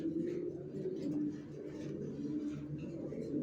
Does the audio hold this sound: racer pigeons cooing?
yes